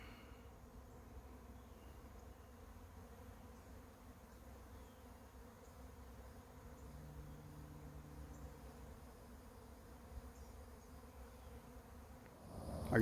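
A swarm of honeybees drones around a swarm trap outdoors in a steady, faint buzz that holds for several seconds, with a louder rustle at the very end.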